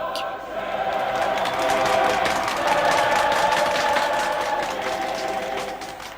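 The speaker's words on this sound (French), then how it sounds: "Le monde entier applaudit le pape" A large crowd cheers and applauds Pope John XXIII, a dense, steady roar of clapping and voices that holds loud throughout before easing slightly at the end.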